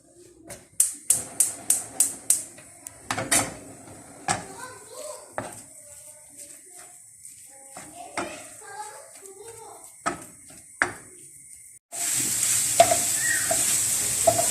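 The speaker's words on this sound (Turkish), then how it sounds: "Şu an kıymayı kavurmaya başlayacağım." A series of sharp utensil clacks and scrapes against a pan, then a loud, steady sizzle as minced meat starts frying.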